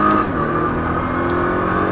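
A Nissan GT-R accelerates at full throttle on city streets, its engine a loud, sustained drone with a rising whine, heard close from inside the car.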